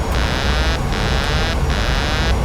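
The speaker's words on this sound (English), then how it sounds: "I hate that buzzer." An autopilot disconnect warning in the PMDG 737 NGX flight simulator sounds as a loud, harsh repeating buzzer, bursts of roughly half a second with short gaps, over steady cockpit noise.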